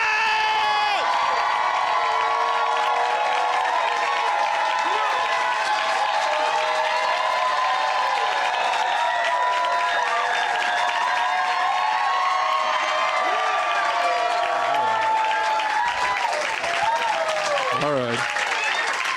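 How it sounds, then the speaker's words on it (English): A comedy club audience claps and cheers nonstop for a comedian coming on stage, a dense roar of applause with whoops and shouts, and a voice briefly speaking near the end. "Start clapping now for Mr."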